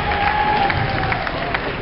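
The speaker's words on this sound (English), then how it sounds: "Give him applause." Audience at a high school hypnotist show applauds and cheers in a steady, dense wash of clapping and crowd noise that lasts the whole short moment.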